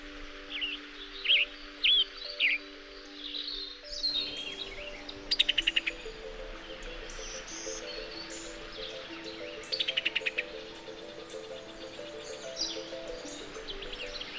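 Tanagers and other birds call in an Arizona sky island mountain forest: scattered bright chirps and whistles, some near and some farther off, over a steady hum of insects.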